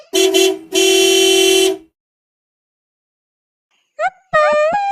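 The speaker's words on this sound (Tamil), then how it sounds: "வண்டி சத்தம் கேக்குது" A vehicle's horn honks near and loud: two short blasts, then a longer sustained one, followed after a pause by a chirping, wobbling electronic horn-like tone.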